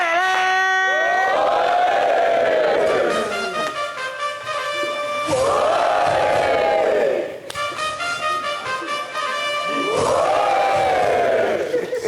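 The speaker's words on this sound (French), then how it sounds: "Applaudissez." A TV show studio audience cheers and shouts for a winning team in loud, swelling crowd bursts that come in waves, with brief dips between them.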